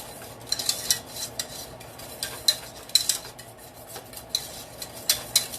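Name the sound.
whisk stirring cheese sauce to remove lumps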